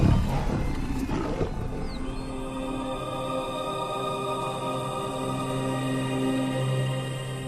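Lions roar in the wild during a long hunt of a giraffe, a loud burst at the start giving way to sustained low, rumbling growls and roars from several animals, close and continuous.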